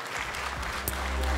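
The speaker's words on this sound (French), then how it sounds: "on peut l'applaudir aussi" Applause from an event audience welcoming a guest onstage, a steady wash of clapping heard briefly and fairly evenly throughout.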